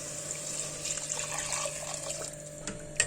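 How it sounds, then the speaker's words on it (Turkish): Hot water poured into a pot of tomato soup with rice, making a soft, steady trickling gurgle with a faint hum beneath and a small knock at the end. "5 su bardağı sıcak su ekliyorum."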